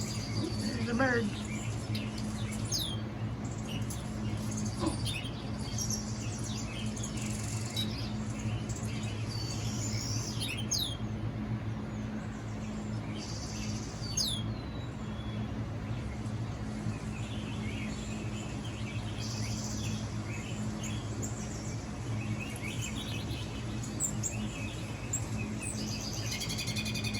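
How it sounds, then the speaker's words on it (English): Birds chirp and tweet in short, high repeated calls from a nature video playing on an iPhone, thin and moderately faint over a steady low hum through the whole stretch. "There's the birds."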